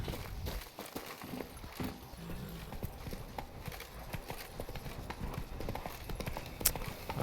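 A horse's hooves clip-clop at a steady walking pace in The Witcher 3: Blood and Wine, moderately loud over a busy background of ambient game sound.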